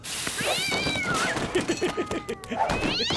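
A cat meows repeatedly in drawn-out, wailing cries, close and loud, in a French comedy series scene, with some low chatter-like sounds between the calls.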